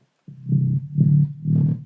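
A synthesized sub bass from a Spire preset, low and rumbling with heavy distortion and compression, plays three sustained growling pulses after a brief silence, loud and alone.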